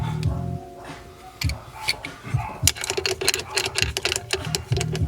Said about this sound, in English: Get your crescent wrench.